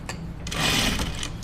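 A sewing machine stitches a dress seam in a short, fast, close run of rhythmic needle clatter that builds and then eases off.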